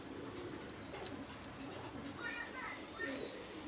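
A Teddy pigeon coos softly in the background, low and muffled, while someone talks over it close to the listener.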